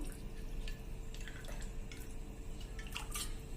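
Very cold water pours steadily into a raw mango drink, with a soft, continuous splashing hiss and a few drips, over a low background hum.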